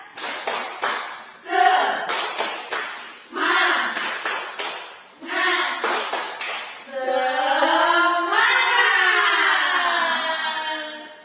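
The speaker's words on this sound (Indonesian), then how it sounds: "1, 2, 3, tepuk semangat" A group doing the tepuk semangat rhythmic clap in patterned bursts of sharp claps, interleaved with voices chanting along, ending in a longer stretch of group vocal chanting.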